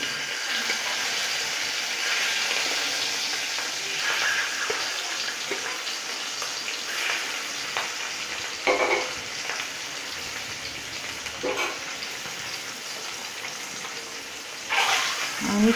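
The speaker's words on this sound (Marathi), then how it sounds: "आपलं तेल आता गरम झालं आहे आता त्याच्यामध्ये एक एक आपला अंडा सोडायचा आहे" Eggs slipped one at a time into hot oil for an egg curry, producing a steady, even frying hiss with a few sharper crackles and spits scattered through it. No talking.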